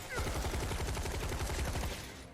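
Rapid automatic gunfire from the video game Final Fantasy 7 Remake, a loud continuous burst of closely spaced shots lasting about two seconds before cutting off.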